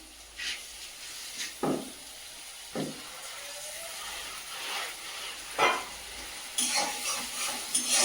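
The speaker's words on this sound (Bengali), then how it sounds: "পেঁয়াজটা ভাজা ভাজা হয়ে গেছে, এই পর্যায়ে দিয়ে দেবো আদা রসুন বাটা।" Onions frying in a wok with ginger-garlic paste hiss steadily, broken by several sharp stirring scrapes and bursts of sizzle close at hand.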